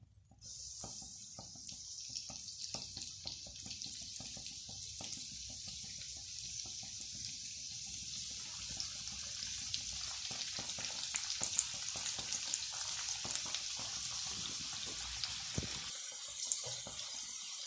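Spring rolls fry in a frying pan, giving a steady, bright sizzle of hot oil that holds throughout and swells slightly louder toward the end, with faint scattered crackles and no talking.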